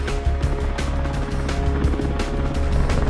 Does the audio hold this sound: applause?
no